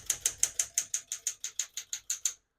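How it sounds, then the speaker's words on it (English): Keys of a 1972 Smith-Corona Classic 10 portable typewriter strike in a steady run of about fourteen crisp, close clacks, evenly spaced, then stop into silence. "as you can see, all the keys type nice and none of them skip or stick."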